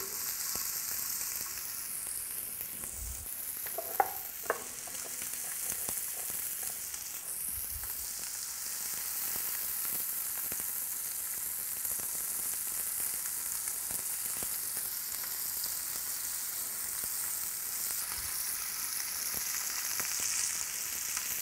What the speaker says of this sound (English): Thinner the asparagus, lesser the cooking time, but make sure the bacon is cooked well and through.